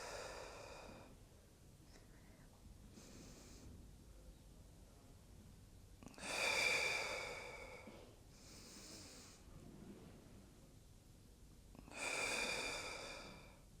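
Slow, deep breaths during a shoulder mobility exercise, with soft inhales and stronger, airy exhales alternating in an even rhythm, close and fairly quiet, no talking.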